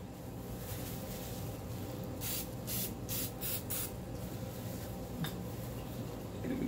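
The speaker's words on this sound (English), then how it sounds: "Spray generously along all the sides." Several short bursts of cooking spray hiss along the sides of a meatloaf pan, close and distinct, with a faint clink of the pan between sprays and no talking.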